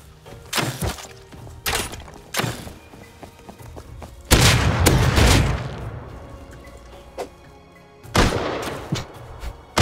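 Video game gunfire rings out in scattered sharp shots and booming blasts, several distinct reports spaced a second or two apart with one heavier rumbling burst in the middle, no talk over it.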